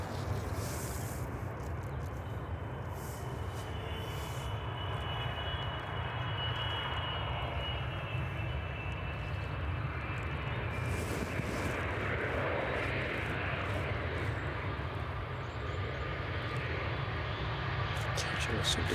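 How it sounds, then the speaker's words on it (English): DHL Boeing 777 cargo jet rolling in at East Midlands Airport in the evening, a continuous broad engine roar at moderate distance, steady throughout, with someone talking over it. "Just coming online as the DHL 777 rolls in"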